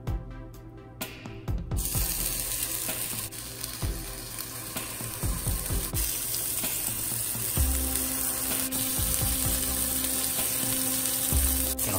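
Bison meatloaf burgers dropped into a hot cast iron pan, a loud continuous sizzle bursting in after a brief quiet start and holding steady, with occasional clinks and scrapes, close and without talk.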